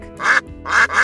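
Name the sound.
duck quacking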